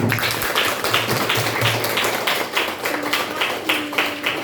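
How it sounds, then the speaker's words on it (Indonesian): A classroom of students clapping together in applause, a steady dense patter of many hands close by, sustained for several seconds with faint voices underneath. "kita tepuk tangan untuk bersama ya"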